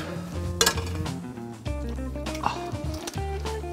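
Cooking pot being stirred on an Italian kitchen stove, with a spoon or utensil scraping and clinking against the pot's bottom and sides, several metallic knocks over a steady bed of simmering and background music.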